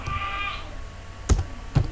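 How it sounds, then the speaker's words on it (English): A computer keyboard is used to type a terminal command, with two sharp, separate key presses standing out against a faint background hum. "So you type Dnsenum."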